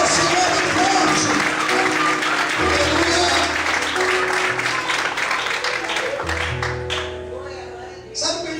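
A church congregation applauds loudly and steadily during a worship service, dense clapping mixed with crowd noise and music that continues for several seconds before easing off near the end.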